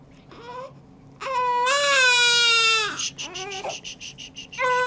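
Newborn baby moments after birth letting out loud, high wailing cries in a hospital delivery room, a short whimper first, then a long sustained cry and shorter broken sobs, close and clear.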